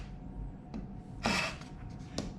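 A short, quick saw cut through the wooden side of a guitar body to seat a brace: a couple of brief rasping strokes, fairly quiet and close, with a hushed workshop in between.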